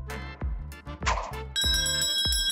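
A bright bell rings out clearly in the second half, its sustained metallic tone ringing on alone after a few shorter sounds at the start.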